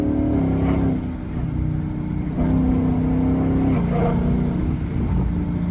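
A Ford Mustang engine, fitted with a 10-speed transmission, revs hard through a downshift with a loud, close, continuous exhaust drone that climbs and shifts in pitch.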